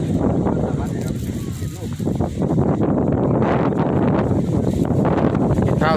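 Strong wind blowing straight into the microphone outdoors, a loud continuous rumbling buffet with rustling, lasting the whole stretch.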